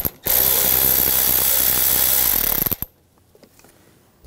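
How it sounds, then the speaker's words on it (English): A ratchet with an 8mm socket loosening a worm-drive hose clamp on the air intake of a 2013-2019 Ford Escape 2.0L, a rapid, loud clicking burst lasting over two seconds, then near-silence with a few faint taps. "Loosen up this worm clamp right here, use an 8mm socket."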